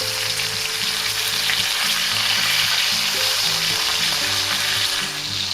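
Flat iron steak sears in a hot pan with a steady, dense sizzle, and background music plays underneath.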